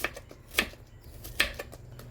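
Onions are pounded in a mortar with a pestle, making a few dull thuds spaced apart over a soft background hum.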